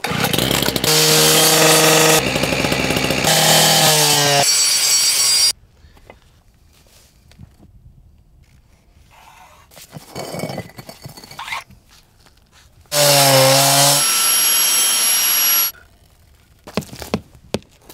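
A power saw cuts paving stones for a driveway, heard as two loud, whining cutting bursts, the first about five seconds and the second about three, with quiet scraping and handling noises between them.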